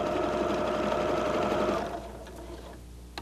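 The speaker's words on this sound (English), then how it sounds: "Let's try just a single pattern. Begin sewing again." Husqvarna Viking #1 sewing machine stitching a single pattern, a steady loud close whir of the needle that stops partway, followed by a few faint clicks.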